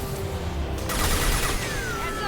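Gunfire in the sci-fi shooter Mass Effect 2 during a fight against injection tubes, a dense steady wash of shots with a sharper burst near the middle, busy game noise throughout.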